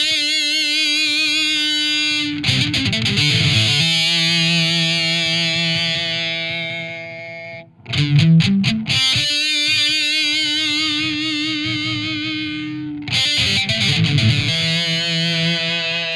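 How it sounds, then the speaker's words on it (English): Thick, sustained distorted electric guitar chords ring out, with a few quick strummed changes between long held notes. "when we kick that distortion pedal on, and you can see how it interacts with the distortion"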